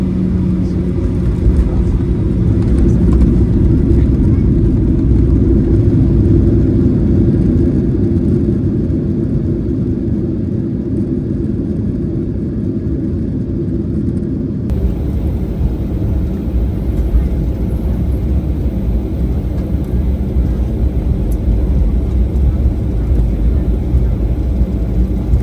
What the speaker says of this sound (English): Here's our very soft landing on Seattle's 16 left.